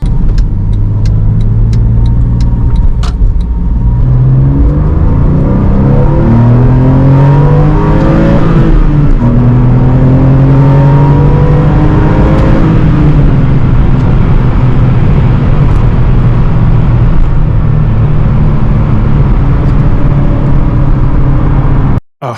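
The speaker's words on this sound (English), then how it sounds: "So this is your 996, 997 startup ritual as I understand it." A Porsche 911 997.1 with a high-mileage flat-six starts and settles into a warm-up idle. The engine surges on startup, then holds a steady, close, loud rumble with rising and falling tones, and cuts off abruptly at the end.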